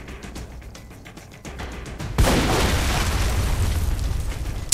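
A loud explosion in a video game bursts after a stretch of quieter ticking game sound, then a sustained rumbling roar of fire and debris that holds for the rest of the clip.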